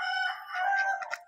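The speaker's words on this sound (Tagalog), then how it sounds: "Meron ding manok." A rooster crows once at close range on a rural provincial farm, a clear, drawn-out cock-a-doodle-doo that breaks into a few short, ragged notes at the end.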